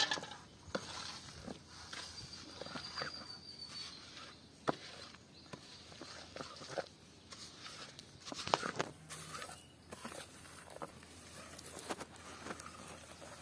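Green gram laddu mixture stirred in a pan, with soft scraping and clinking of a spoon against the metal, faint, irregular and close, plus scattered light knocks.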